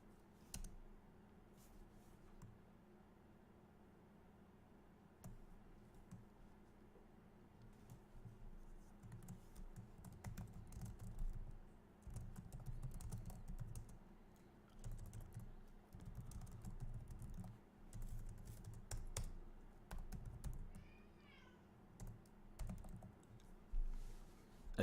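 Rapid typing on a computer keyboard, a steady patter of close, light key clicks with irregular bursts and short pauses, continuing for the whole stretch with no talking.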